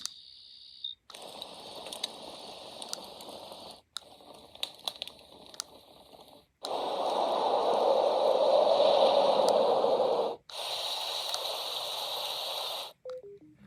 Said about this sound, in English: Another creek. Crickets.